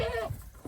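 A goat on a Nepali village farm gives one short nasal bleat, close and fairly clear, followed by a faint rustle and a brief second noise.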